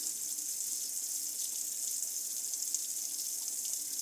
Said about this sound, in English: I have the cold water running because I want to get it as cold as possible